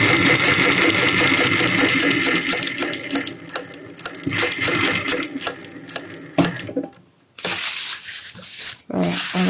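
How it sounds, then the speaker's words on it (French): A sewing machine stitches through five layers of motorcycle seat material, a loud fast rhythmic mechanical hum with repeated needle clatter, pausing briefly near the end before resuming. "Et on va coudre."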